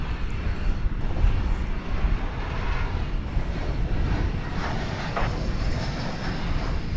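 American Airlines airliner at DFW airport at night, a steady loud jet engine roar with broadband rumble holding throughout, heard from fairly close with no break.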